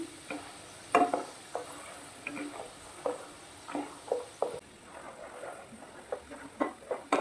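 Raw plantain slices frying in oil for upperi banana chips are stirred in the pan, with scraping clicks and bursts of crackling at an uneven pace over a low sizzle, close and moderately loud, with no speech.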